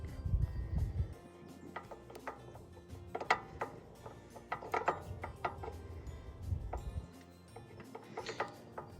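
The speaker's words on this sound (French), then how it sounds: "Puis vous reprenez votre petite clé de 3 mm, puis vous serrez." A small 3 mm key tightening brake caliper bolts on a 2022 Katch Freedom 1200 during a 180 mm brake conversion, heard as close, irregular metallic clicks and ratcheting taps, some in quick clusters.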